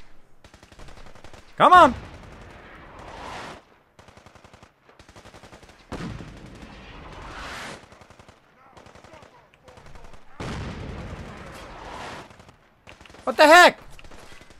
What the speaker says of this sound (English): Yeah, bringing in the artillery!